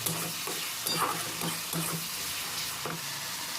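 Tomato masala stirred in a pan while frying over medium heat, with a steady moderate sizzle and repeated scraping strokes of a spoon roughly every half second, no talking.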